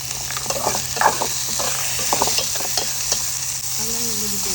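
Peas frying in a broccoli curry pan sizzle loudly and steadily while a utensil stirs and scrapes through them in irregular strokes, close up and without talk.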